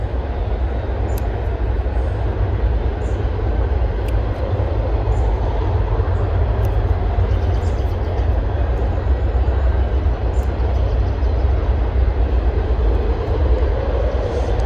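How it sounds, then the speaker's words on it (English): A loud, steady low rumble and clatter of a train passing nearby, continuous throughout with no voices. "And we have a train, so bear with me."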